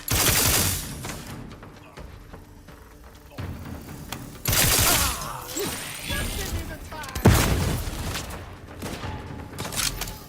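A grenade bursts in a firefight in the video game The Outer Worlds 2, with loud broadband blasts and a clatter of gunfire rising and falling over about ten seconds, close and heavy, without talk.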